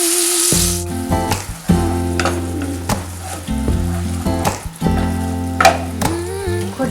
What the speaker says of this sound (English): let's fry the base sauce first. So I'm gonna put in a bit of olive oil.